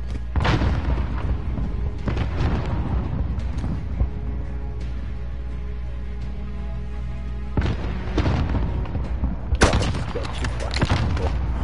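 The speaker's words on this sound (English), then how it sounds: "The rocket launcher for this game, the RPG, is way overpowered" RPG rocket launcher blasts in a team deathmatch video game, heavy booming explosions and rumbling impacts one after another over a constant low roar, with sharper hits near the end.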